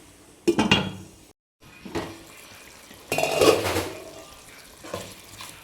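A spoon stirs chicken and coconut milk in a pot, with a few loud clanks and scrapes of metal on metal, brief wet stirring and short pauses between them, close and with no talking.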